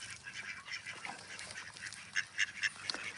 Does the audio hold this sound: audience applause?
no